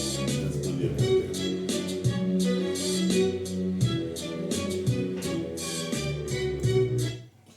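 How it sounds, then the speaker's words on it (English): Orchestral music plays through an Apple Beats Pill wireless speaker (2024), with a deep double bass low underneath and steady layered strings and percussion hits, continuous and fairly loud before cutting off at the end. "So there we had a bit of an orchestral track."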